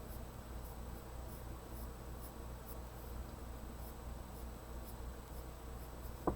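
A pencil scratches steady, quick lines on paper while a mermaid design is sketched, a soft, continuous close-up rasp with no talking.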